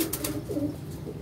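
A pigeon coos softly and nearby in a short, low, rolling phrase, heard alone.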